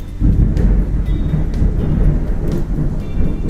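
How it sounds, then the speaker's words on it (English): Low rumbling thunder rolls continuously under steady heavy rain, loud and close, with no voices. "It is thundering and raining here really bad."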